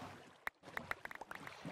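Minecraft boat being rowed across water, heard as a series of short, crisp paddle splashes in an uneven rhythm, fairly quiet and with no talking.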